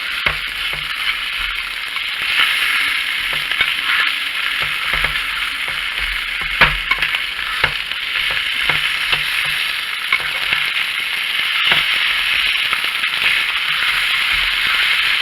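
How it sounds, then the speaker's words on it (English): Scrambled eggs with cheese and leftover French fries sizzle steadily in a pan, with a continuous bright frying hiss and intermittent scrapes and clicks of stirring throughout. "I want some of this cheese to melt in with the egg. And then I'm going to just toss this all up."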